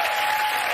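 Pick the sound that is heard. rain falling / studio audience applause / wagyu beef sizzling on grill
studio audience applause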